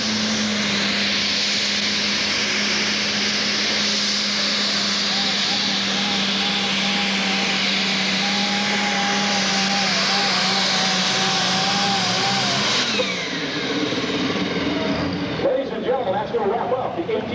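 The Rawhide pulling tractor from Sedalia, Missouri, running at a 1997 Nebraska State Fair tractor pull, its engine a sustained heavy roar that rises in pitch and then drops off near the end, with an announcer's voice over the crowd.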